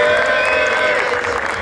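Crowd at a DJ battle applauding and cheering in a loud, continuous wash of clapping and voices, with shouting mixed in.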